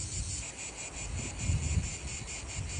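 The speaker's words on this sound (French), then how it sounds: "qu'on entend les cigales, qu'on entend la mer, c'est incroyable." Dense, steady shrilling of cicadas on a Corsican beach at night, a continuous high buzzing with faint pulsing and low rumble beneath, no voices.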